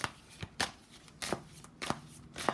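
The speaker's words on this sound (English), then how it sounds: "So let me do traditional throw of the cards." Tarot cards being shuffled during a card reading, with rhythmic bursts of riffling and slapping cards repeating roughly every half second to second, close and fairly quiet with no voices.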